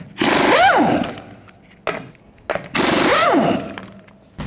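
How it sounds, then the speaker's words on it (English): An impact wrench whirs loudly on the lug nuts of a 2011-2016 Ford F350 Super Duty rear wheel, fitted with a 21mm socket, in two long bursts. Short clanks from handling come between them. "Use a 21mm socket. Take the lug nuts off."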